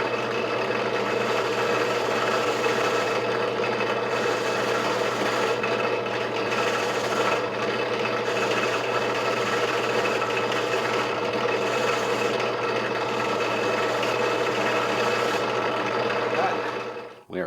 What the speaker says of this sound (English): Give this a spin on the wire brush.